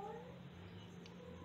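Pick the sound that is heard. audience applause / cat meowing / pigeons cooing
cat meowing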